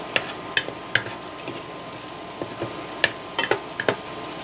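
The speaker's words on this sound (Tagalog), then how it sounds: "I'm cooking this now in our office" Vegetables fry in a pan in an office, a soft continuous sizzle broken by frequent light clicks and scrapes of a utensil stirring, close and with no talking.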